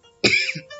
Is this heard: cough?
yes